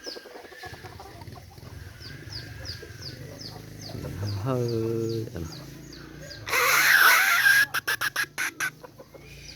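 Chickens cluck and a rooster calls close by on a farm, with repeated short fowl calls over steady background noise, a brief loud burst near the end, and a person speaking briefly.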